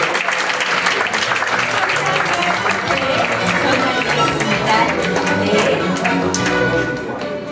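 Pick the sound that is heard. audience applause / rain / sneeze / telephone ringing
audience applause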